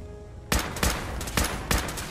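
Rifle gunfire in the video game Fallout 4: four sharp, loud shots spaced about a third to half a second apart, ringing out alone after a brief quiet start.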